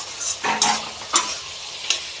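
Masala spices frying in a pan and being stirred, with short bursts of sizzle and a few scraping strokes at uneven intervals over a quiet background.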